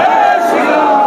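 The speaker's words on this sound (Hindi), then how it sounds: "जोरदार तालियों से स्वागत अभिनंदन और एक बार जोरदार जयकार लगाएंगे।" A crowd at an outdoor BJP election rally in Shri Ram Chowk loudly chants slogans in unison, a sustained, close, voiced roar of many people with no single speaker standing out.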